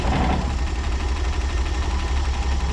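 A CMP military truck engine with a rear drum brake runs at a steady, knocking idle, loud and close, with no clear gear change audible in the short stretch.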